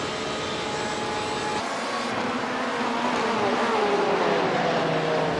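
Porsche race cars in the iRacing Le Mans Series at Monza's Grand Prix circuit drone loudly, their engine notes climbing and overlapping as they pass, with no talk over them.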